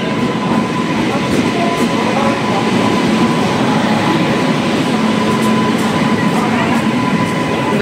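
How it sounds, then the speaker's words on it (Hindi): Steady rumble and rattle inside a moving passenger train bound for Mumbai, with constant loud rolling noise and faint rhythmic clicks from the wheels throughout. "अभी हम बैठ के हैं ट्रेन में, अभी हम जा रहे हैं मुंबई"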